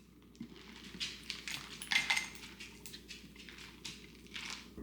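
Iced coffee trickles over ice cubes in a glass, with soft clinks and crackles coming in uneven bursts, close and fairly quiet.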